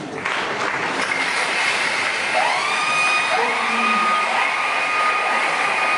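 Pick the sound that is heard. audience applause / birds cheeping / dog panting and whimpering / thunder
audience applause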